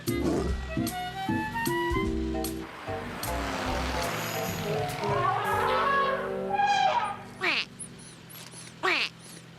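A cartoon lion lets out a loud, close roar amid playful animated sound effects, with rising whistles and chirps, and a voice speaking around it.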